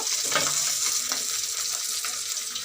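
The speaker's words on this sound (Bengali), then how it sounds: "দেখো আমার মাছ ভাজা চলছে" Rohu fish pieces frying in a pan, a dense continuous sizzle with crackling spatter, close and loud, no voices.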